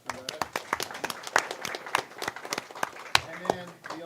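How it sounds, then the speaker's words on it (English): Scattered applause from a small audience at a school board meeting, distinct individual claps in an uneven rhythm, fairly sparse and moderate in level, with faint voices mixed in. "So let's give a round of applause for that."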